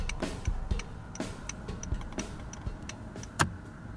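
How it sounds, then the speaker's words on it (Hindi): A car's turn signal indicator ticks at a steady, quiet rhythm inside the cabin, soft regular clicks with faint background noise. "इसी तरह अगर मैं ये लेफ़्ट पे करता हूँ तो लेफ़्ट साइड का इंडिकेटर ऑन हो गया।"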